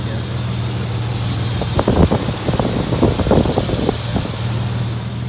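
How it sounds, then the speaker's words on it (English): A 1999 Ford Explorer Sport 4.0L SOHC V6 with a cold air intake idles with a low, steady rumble, broken by a few irregular louder chugs and pulses in the middle. "It's pretty rumbly for just a little V6."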